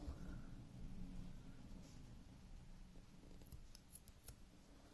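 Scissors snip off the tail of crochet yarn on a small amigurumi onigiri rice ball, a few quiet close cuts clustered near the end over low steady background noise.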